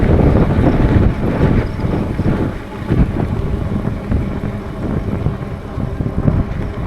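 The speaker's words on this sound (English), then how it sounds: "You can hear me through the wind." Strong wind buffets the microphone on a hilltop during an e-bike trail ride, a loud, continuous low rumble with gusty surges and no clear speech.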